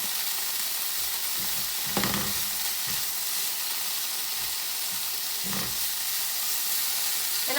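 Kale with garlic, soy sauce and red chili flakes sizzles and fries steadily in a pan, with a constant bright hiss and a couple of brief stirring clatters.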